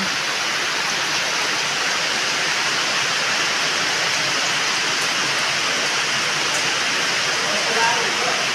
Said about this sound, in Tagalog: Lakas talaga ng ulan.